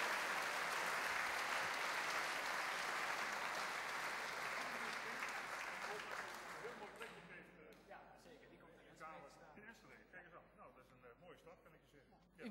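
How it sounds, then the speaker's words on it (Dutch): Audience applause at an award ceremony where a certificate is presented, a loud, sustained clapping that fades after about seven seconds into scattered claps and crowd murmur. "nog een keer applaus"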